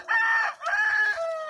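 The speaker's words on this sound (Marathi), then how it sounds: "हे आता आपण हे पाहतो अशा कोंबड्या बघा" Free-range country chickens on a high-tech farm give a drawn-out rooster crow and clucking, close and fairly loud with no talk.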